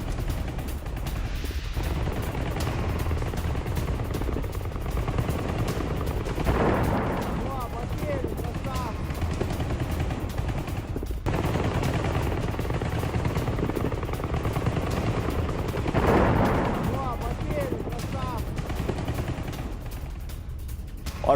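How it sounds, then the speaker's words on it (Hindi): Russian attack helicopter firing in a war zone: a steady rotor and engine drone underlies repeated bursts of gunfire and booming impacts, a dense, distant battle din throughout. "वॉर जोन में रूसी हेलीकॉप्टर M124 का प्रहार अब आपको दिखाते हैं"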